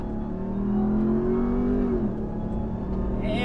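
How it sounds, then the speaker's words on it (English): A 2021 Ram TRX pickup launches on loose gravel, its engine rising in a loud steady pull before easing off as the gears shift, heard close with no talk. "So brake as hard as we can, gas all the way down, off the brake, and it goes."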